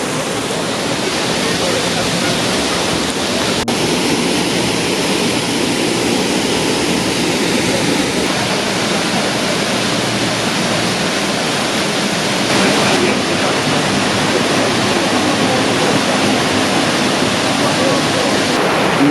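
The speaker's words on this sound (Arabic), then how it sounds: "والله يا خوتي وصلنا للشلال تاع السدمه" Sidma waterfall in Guenouaa, Skikda, roars as a steady, dense broadband rush of falling water, loud and continuous throughout with no pauses.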